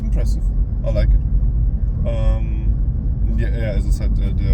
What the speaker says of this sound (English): I have 750 CCM and I'm just driving around in a regular sized car, economy car